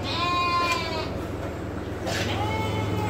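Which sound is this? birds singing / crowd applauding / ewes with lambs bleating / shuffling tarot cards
ewes with lambs bleating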